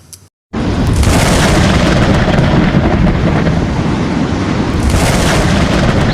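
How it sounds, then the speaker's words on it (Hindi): Cartoon sea storm at full force, a loud, steady roar of wind and thundery rumble that bursts in after a brief silence and holds unbroken, with no voices over it. "अरे ये तो समुद्री तूफान है।"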